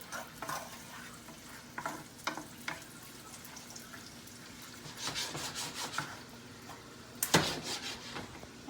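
Onions fry in oil while being stirred for a spinach dish, with a quiet continuous sizzle and repeated scraping strokes of a utensil against the pan, close and fairly faint.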